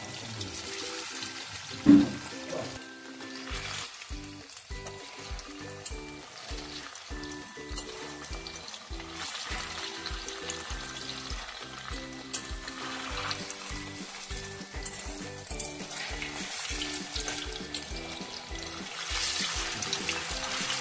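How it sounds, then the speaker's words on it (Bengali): Paneer frying in hot oil in a kadai, giving a steady sizzle and crackle throughout with faint background music and a brief knock early on. "কড়াইতে তেলটা গরম করে নিয়েছি, এবারে পনিরটা ভেজে তুলে নেব"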